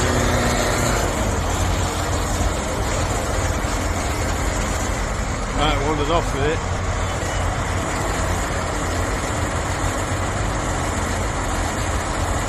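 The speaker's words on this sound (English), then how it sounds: "A little tractor with a lot of grunt in that engine" Small diesel tractor pulling at a steam rally in Whitby, a steady engine rumble heard at a distance under crowd noise, with a voice speaking briefly partway through.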